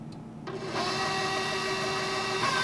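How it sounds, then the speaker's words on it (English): An electric mixer whisks heavy cream with cocoa and sugar for chocolate mousse, switching on with a steady high motor whine that holds evenly for about two seconds, close and alone. "Now we're gonna whisk it."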